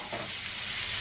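Chorizo frying in a pan for paella gives a continuous close hiss and sizzle, soft and even throughout, with no talk over it.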